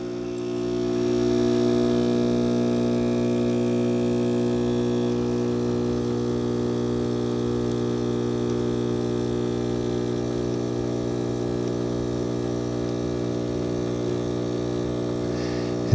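A Gourmia automatic espresso machine brews a double shot with a steady, droning pump hum that settles and holds constant throughout, close and alone.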